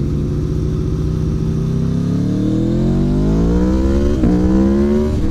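An Aprilia Tuono V4 motorcycle with the exhaust baffle removed revs loudly and steadily nearby, its engine note climbing in pitch over several seconds with a brief blip near the end, no talking.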